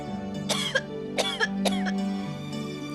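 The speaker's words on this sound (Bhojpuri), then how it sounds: "बहुत खांसी हो रहा बा" A person coughs in a domestic drama scene: three separate bursts of hacking coughs spaced about a second apart, close and fairly loud, over a low steady background hum.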